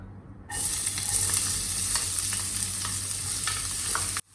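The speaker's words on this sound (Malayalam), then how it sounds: "ഇനി നമുക്ക് സവോള ചേർത്ത് കൊടുക്കാം." Sliced onions hit hot coconut oil in a pan and start sizzling loudly, a sudden burst of steady close frying with light stirring scrapes over a faint low hum, cut off abruptly at the end.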